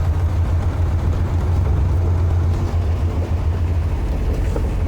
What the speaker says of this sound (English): You can kind of hear the rear end groaning